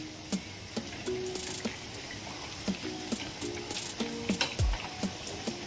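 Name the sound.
frying baby corn fritters in oil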